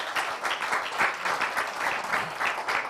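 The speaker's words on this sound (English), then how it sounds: "Clap even harder for the man behind the show who's made a lot of effort, Mr. Ramesh." Audience applause at a breast cancer care event, a dense, steady wash of many hands clapping throughout, fairly loud and continuous with no pauses.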